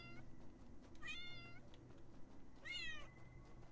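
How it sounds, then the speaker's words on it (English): A cat in the video game Paws lets out two high, drawn-out meows a second or so apart, clear over a quiet background hum. "it has the cutest meow"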